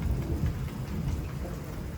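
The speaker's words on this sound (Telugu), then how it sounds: "మీ వర్షం ఒకటి పడుతుంది" Steady rain falling at Lambasingi, a dense continuous hiss of drops with a low rumbling undertone, fairly even throughout.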